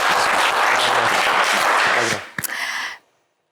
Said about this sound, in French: on applaudit Elohim